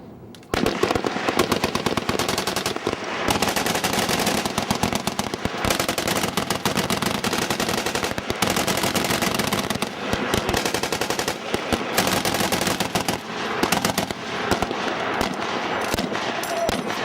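Sustained machine gun fire on a military range against close targets, with dense rapid bursts and brief pauses, loud and near, lasting throughout.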